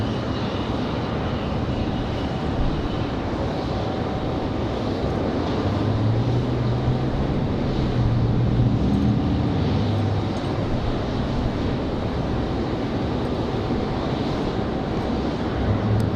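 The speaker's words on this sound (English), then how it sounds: "we're going to have back-to-back international departures here as we get Aero Mexico back to Mexico City and Copa back to Panama" Aeromexico and Copa jet airliners depart back to back from Raleigh-Durham International on international flights, making a sustained, even engine roar with a deeper rumbling swell partway through.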